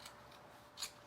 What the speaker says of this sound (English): I wanted to make sure that my fabric scissors can cut through 2 layers of this